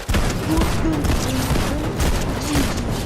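Gunfire in the video game Fortnite, a steady loud barrage of rapid shots filling the whole moment, with faint game tones and an occasional voice underneath.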